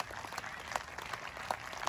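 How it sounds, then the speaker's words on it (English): A small audience claps faintly and steadily for child performers at an Independence Day community celebration in Jeddah, scattered individual claps standing out from soft, distant applause. "give a big round of applause to all the participating children, all the performers who came on the stage"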